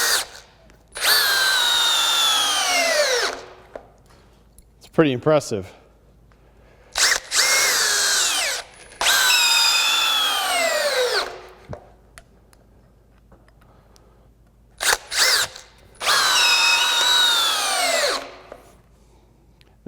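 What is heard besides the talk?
Metabo HPT 18V MultiVolt hammer drill DV18DEX at 2,000 RPM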